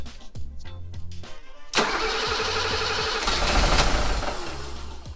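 A BMW E28 535is engine cranks over repeatedly in short bursts, with a starter whirring and chugging near and loud. A brief catch flares up partway, but the engine never settles into running.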